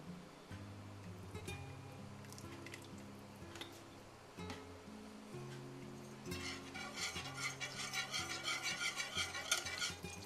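A ladle stirs hot and sour soup after thick soy sauce goes in, soft at first and then a louder rhythmic swirling and scraping, with tonal music playing underneath.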